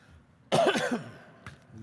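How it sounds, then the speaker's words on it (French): A man at the podium of a Quebec education consultation, the Minister of Education, gives a loud, close cough burst, then a smaller follow-up cough in a quiet hall. "Vous excuserez la toux."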